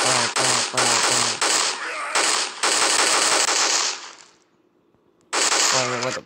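A Scar SSR rifle fires in a zombie video game, loud rapid bursts of shots in quick succession, a brief quiet gap, then another burst.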